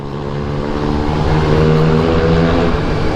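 A motorcycle with straight-through exhaust rides past on a night street in Kyiv, its loud engine drone swelling and holding steady, with a strong low rumble and no voices over it.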